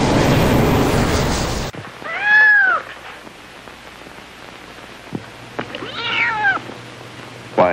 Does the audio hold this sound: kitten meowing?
yes